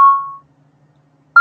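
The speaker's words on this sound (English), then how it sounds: "I cannot believe that the alarm is going on." A home alarm gives a loud, steady electronic beep that fades out after a moment. A second sharp beep starts after a short silence.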